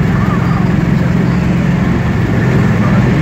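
A 1972 Dodge Dart Swinger cruising at about 70 mph and 2500 RPM on highway gearing, heard from inside as a loud, steady, low engine and road drone.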